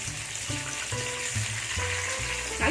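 Prawn vadai frying in hot oil, a steady bubbling sizzle close by, with faint tonal clinks and a louder burst at the very end, no talking.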